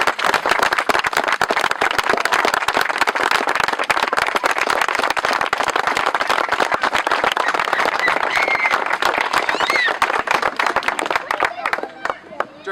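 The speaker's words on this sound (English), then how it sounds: "Let's give them a huge round of applause." A crowd applauds the builders at the grand opening of the Kennedy Park inclusion playground, a dense, loud burst of clapping that carries steadily for about eleven seconds before thinning out and fading at the end.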